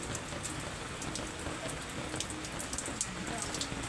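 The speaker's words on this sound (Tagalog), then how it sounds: "Umuulan." Steady rain falling outdoors near a neighborhood store, a continuous hiss of drops with scattered sharper taps on surfaces, moderately close and fairly quiet.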